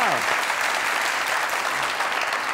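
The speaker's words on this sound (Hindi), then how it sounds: "जोरदार तालियां।" Studio audience on a Pakistani comedy talk show bursts into loud, sustained applause, a dense steady wash of clapping that holds from start to finish.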